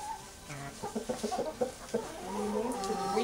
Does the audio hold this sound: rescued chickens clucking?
yes